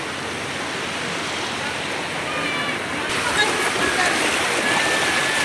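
Floodwater rushes along a rain-flooded road in Mindoro, a loud continuous roar of flowing water that swells louder partway through, with no talk.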